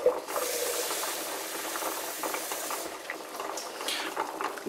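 Water pours into a hot pot on a stove with a steady bubbling, hissing rush, close and continuous, and a few faint clinks of metal toward the end.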